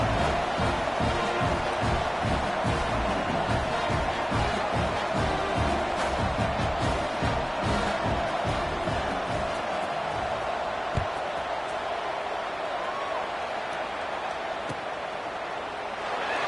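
A college football stadium crowd during a kickoff after a score, a broad steady roar filling the space at moderate loudness, with a commentator talking over it throughout.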